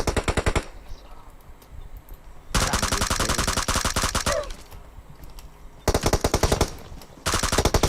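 Rapid automatic gunfire in the mobile battle royale game PUBG Mobile, loud bursts of fast repeated shots in several stretches separated by quieter pauses, with no talking.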